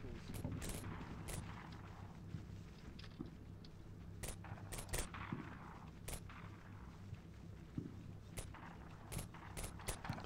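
Bursts of machine gun fire from a technical in Combat Mission Shock Force 2, sharp staccato cracks scattered irregularly over about ten seconds above a low rumbling battlefield background.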